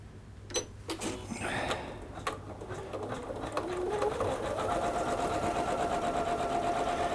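A Janome 9850 embroidery machine stitches a design with a steady, rapid mechanical whir, starting with a few clicks and settling into a continuous close hum with no talking.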